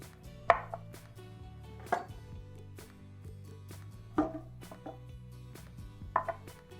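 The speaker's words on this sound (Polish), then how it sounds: "Do dużego gara wrzucam główkę czosnku, tylko przekrajam na pół" A knife cuts through a whole head of garlic at the bottom of a large pot, giving four sharp, separate chops over a low steady hum, with no voices.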